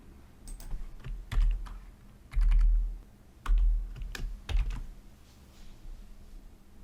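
Code is typed on a computer keyboard, with close, clear key clicks coming in short clustered bursts and gaps between them, plus a few heavier thumps from the keys bottoming out; no one talks.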